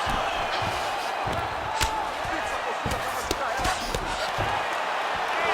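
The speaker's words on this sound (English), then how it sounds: "you heard the crowd pop after that grueling ground battle" Arena crowd roaring and cheering in a UFC fight video game bantamweight bout simulation at the Delta Center, a steady broad wash of noise with scattered impact thuds, while a commentator's voice runs over it.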